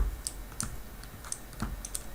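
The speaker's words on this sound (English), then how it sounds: "that is something I can type in the calculator" Fingers tap on a calculator keypad, a handful of quiet, distinct clicks spaced irregularly, close and faint, with no voices.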